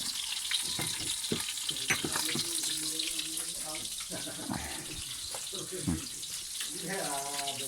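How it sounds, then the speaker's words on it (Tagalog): Water splashes and pours steadily into a container, with clinks and some talking mixed in. "Palagay na tayo ng tubig sa ating jug."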